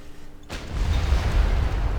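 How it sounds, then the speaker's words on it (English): A cannon fires at a barbarian encampment in Civilization V: Brave New World, a sudden deep boom that bursts in partway through and rolls on as a sustained low rumble. "It's kind of overkill to destroy barbarians with a cannon, but sometimes you're just gonna do it."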